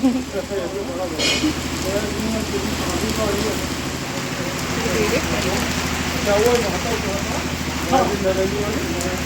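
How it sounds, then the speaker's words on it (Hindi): Heavy rain with hail pours steadily in a dense, hissing wash while a voice talks over it. "तो तेज़ वाली बारिश हुई थी और बाद में पड़ने लगे ओले।"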